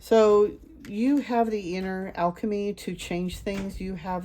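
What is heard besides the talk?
No distinct noise like a dog, phone or traffic.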